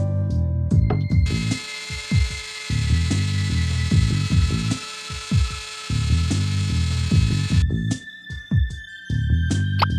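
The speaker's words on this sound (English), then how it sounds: "I might be able to use the lathe to grind the coffee beans." A lathe grinding coffee beans in the adventure game Runaway: A Road Adventure, with a steady high mechanical whine and repeated rhythmic clattering bursts that stop briefly and then resume.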